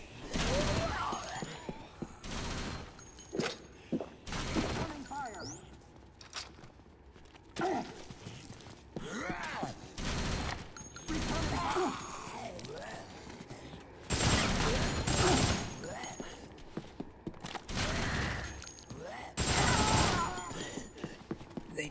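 Repeated bursts of gunfire in the Dead Rising video game, loud and dense volleys recurring every few seconds amid game noise and footsteps, with someone talking in between.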